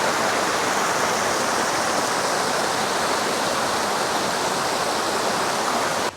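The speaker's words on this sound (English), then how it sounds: "There's some waterfalls here, kind of like this little one behind me" Small waterfall in Decorah, Iowa, rushing steadily in a dense, unbroken roar of falling water, close and loud from start to end with no voices.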